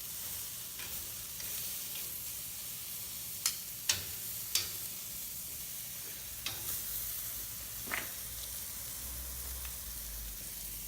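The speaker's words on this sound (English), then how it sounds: "all we're doing right now is just getting a good sear on both sides" Picanha steak searing in a hot pan, a quiet steady sizzle with a few sharp clicks and taps of utensils scattered through.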